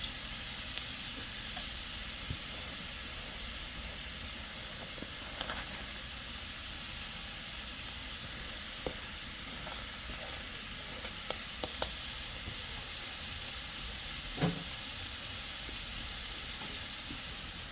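Bacon frying in a pan for dinner gives a steady, soft broadband sizzle with occasional small pops and clicks, quiet and continuous throughout with no voices.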